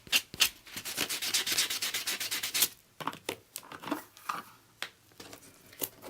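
A nail file files fingernails in close, loud, rapid back-and-forth rasping strokes, first a dense continuous run of strokes, then shorter separated scrapes.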